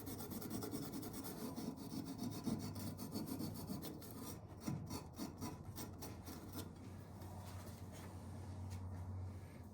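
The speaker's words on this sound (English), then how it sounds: "Get myself like a roll-lock air grinder. Just to make this stuff a little easier to clean." A roll-lock air grinder scrubs at water pump parts from a 2004 Suzuki LTZ 400, giving a continuous, quiet rasping and rubbing that runs unbroken for several seconds.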